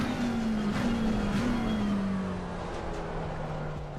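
Race car engine in Assetto Corsa Competizione at the Zolder circuit, a steady loud drone that sweeps gradually downward with no talk over it.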